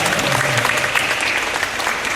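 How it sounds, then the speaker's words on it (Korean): Big applause from wedding guests at a church-style ceremony held in a hotel; dense, loud, continuous clapping from a full crowd for about two seconds. "우리 큰 박수로 한번 등해 주시기 바랍니다."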